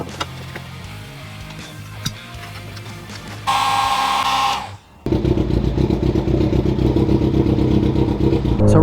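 A restored classic Honda motorcycle engine while riding: a clattering idle, then a brief higher whine that cuts off, before the loud, rough engine note returns close up with steady, rapid firing pulses.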